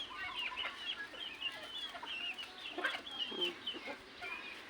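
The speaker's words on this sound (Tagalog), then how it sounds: "Andun yung isang tandang pa dun oh." A rooster and hens cluck steadily nearby, a scattered run of short calls overlapping at moderate volume.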